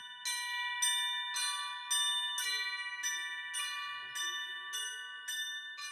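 Chimes ring out at a school, a steady series of about ten clear, evenly spaced metallic strikes with a lingering ring between them, moderately quiet and heard alone.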